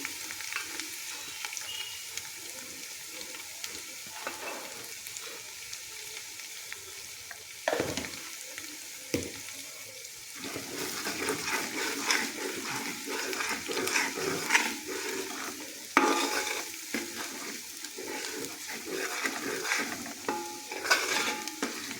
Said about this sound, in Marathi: आता या फोडणीमध्ये मी टाकून घेतो आहे मिरची पावडर